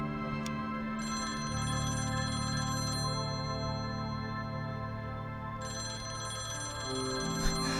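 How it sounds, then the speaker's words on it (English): A telephone rings repeatedly in the detective video game Confidential Killings, a steady electronic ringtone with sustained tones that continue throughout, loud and alone with no talking. "That phone call must be urgent at this time of day."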